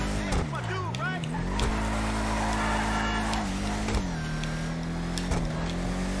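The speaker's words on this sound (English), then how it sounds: "I hear a supercharger whine, which is awesome." A Bravado Gauntlet Classic muscle car with a supercharger in GTA Online, its engine droning steadily with a high supercharger whine as it revs up and down several times while driving.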